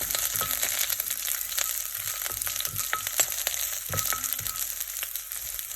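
Green chilies sautéing in a pan for tomato chutney give a steady, close sizzle, with scattered stirring clicks and scrapes over the hiss and no voices.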